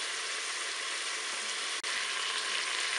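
Chicken thighs browning on the brown setting of a Cookeo multicooker make a constant, even frying hiss, broken once by a brief dropout.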